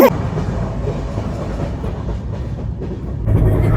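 A passenger train running on the Thane route toward the Konkan rumbles loudly and steadily from inside the carriage, with a low rolling wheel noise that swells slightly toward the end.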